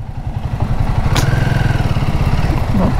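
A motorcycle engine on a road trip near Mukundra Hills Tiger Reserve, loud and close with a steady rapid thumping idle rhythm and a brief sharp click partway through.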